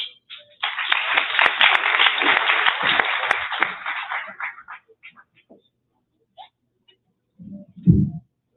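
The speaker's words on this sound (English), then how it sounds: "please give a round of applause to Stephen" A round of applause at the Forum for World Education's 2023 annual gala fills the room for about four seconds, then quickly fades. A lone voice briefly follows.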